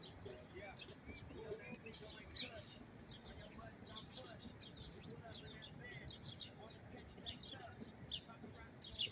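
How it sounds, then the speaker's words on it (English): A baby bird chirps while eating, with rapid high tweets scattered throughout, close and mixed with soft feeding noises as a person talks over it. "He got food in his and he's chirping at the same time."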